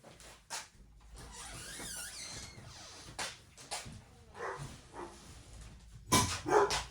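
A dog indoors barks at a delivery arriving at the door, sharp bursts scattered among quieter whimpers and rustling, with a loud cluster of barks near the end.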